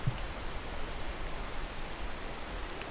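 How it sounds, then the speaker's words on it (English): Steady rain hisses down in the climbing game Peak, a dense, even wash of falling drops holding constant from start to finish with no voices. "Oh, it's raining."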